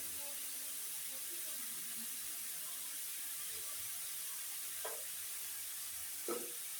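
Leafy greens with salt sizzle softly in a frying pan, a faint continuous hiss broken by two brief scraping stirs near the end.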